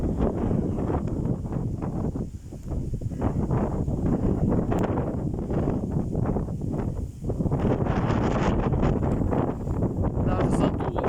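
Strong storm winds gusting across an open field at around 23 metres per second buffet the microphone in heavy rumbling surges, with brief lulls around the middle before the gusts return loud and close.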